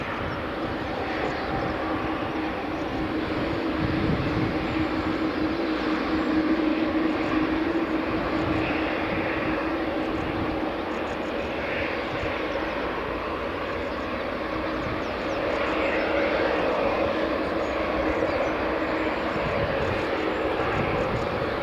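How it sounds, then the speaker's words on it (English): A Loganair Embraer 145 regional jet lining up on runway 24 at Edinburgh Airport in the early morning, its engines holding a steady, continuous whine and rumble at moderate distance with no break. "Loganair Embraer 145 just lining up now."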